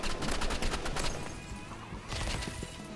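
Rapid gunfire in the Roblox game Rivals during a duo ranked match: a fast volley of sharp shots up front, a brief lull, then another cluster of shots, all fairly quiet and with no talking.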